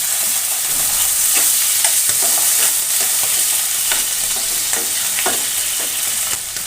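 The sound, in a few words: onion and tomato sizzling as water is added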